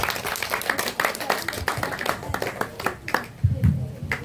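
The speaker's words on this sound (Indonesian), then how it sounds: "Tepuk tangan dong." An audience at a creative-city branding discussion event applauds, a brief burst of many hands clapping with a dense, uneven patter, and voices can be heard along with it.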